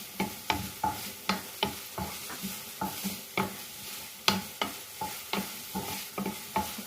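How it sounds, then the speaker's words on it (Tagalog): Beef sautés with tomato, garlic and onion in a pan, a spatula scraping and tapping in a steady rhythm over a soft continuous sizzle, close and clear. "Lulutuin po natin yung beef sa tomato, sa bawang at sibuyas"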